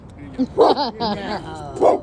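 A dog barks in a few short, close yips and woofs, mixed with a brief whine, outdoors on a street with a voice talking nearby.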